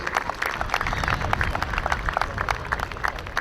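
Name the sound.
crowd applause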